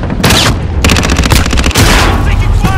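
Loud, close bursts of automatic rifle fire in a shooter game, two dense volleys with a brief gap and a final rattle, with no talk over them.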